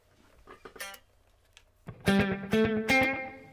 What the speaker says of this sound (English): especially like slap delays, this sort of sound.